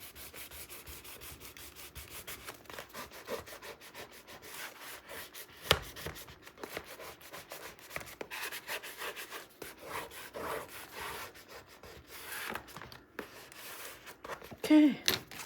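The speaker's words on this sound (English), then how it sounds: "let's open it up and let's do our burnish." Folded paper for a scrapbook mini album is burnished by steady rubbing and scraping strokes, close and fairly quiet, repeating through the whole stretch with a few sharper scuffs and a louder burst near the end.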